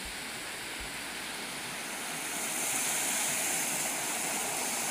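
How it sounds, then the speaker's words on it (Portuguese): A large waterfall roars as a steady, dense wash of rushing water that swells slightly louder midway, close and continuous, with no voices. "Olha lá, galera, a cachoeirona daqui"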